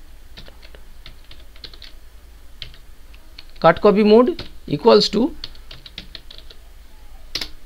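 Computer keyboard typing as VBA code is entered in Excel, soft scattered key clicks running throughout, with a voice speaking briefly over them midway.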